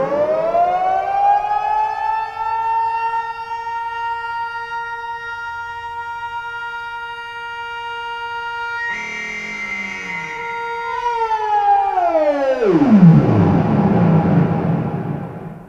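Arturia MicroBrute analog synthesizer playing a rich, gritty sustained tone with many harmonics that holds steady, then bends and sweeps downward in pitch toward the end, loud and alone with no talking.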